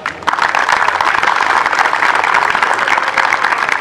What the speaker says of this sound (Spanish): que le pido un fuerte aplauso